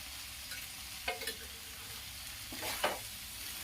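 Black chickpeas and onions frying on high flame, stirred with a perforated ladle: a soft continuous sizzle broken by two short bursts of scraping and stirring, no talking.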